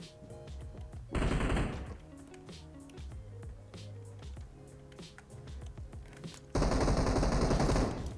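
Automatic gunfire in PUBG Mobile aimed at a bot, two loud sustained bursts of rapid shots separated by quieter game music and ambient sound.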